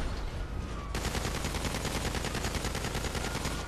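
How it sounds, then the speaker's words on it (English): Rapid automatic gunfire in GTA 5 Online as a player shoots at police, a dense, loud, continuous burst of shots that starts after a brief quieter moment and carries on steadily to the end. "I'm just gonna stand here and shoot police"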